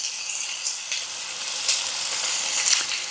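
Chopped goulash ingredients sizzling in a skillet, a close, steady crackle of frying with small pops and bursts, no voices.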